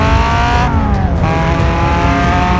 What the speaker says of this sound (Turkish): Alev attı çünkü 4'ten 2'ye çekti arabayı